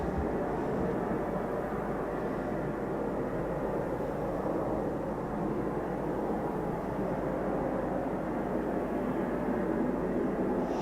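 Eurofighter Typhoon FGR4 jet flying at night near RAF Coningsby, a steady broadband roar that holds at a constant level throughout, distant and sustained with no voices.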